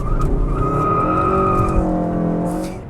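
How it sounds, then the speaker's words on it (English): A 2022 Kia K5 GT sedan pulls away, its engine note rising steadily from close by with a faint tire chirp at the start, then easing slightly as it moves off. "setting off in the 2022 Kia K5 GT"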